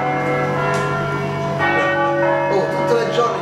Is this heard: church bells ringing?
yes